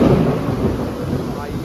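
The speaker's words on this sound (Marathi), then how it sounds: "जोरदार वीज कडकी" A loud, deep rumbling thunder clap during the first monsoon downpour in a village, with rain hissing underneath as the roll fades over a couple of seconds.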